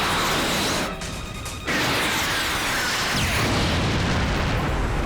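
A missile blast destroys a satellite as a film sound effect: a loud, sustained roaring explosion rumbles across the whole clip, dips briefly, then surges again with a whooshing swell.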